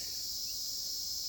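Steady high-pitched insect chirring, like crickets, fills a forest as a constant even drone, faint and continuous with no voices.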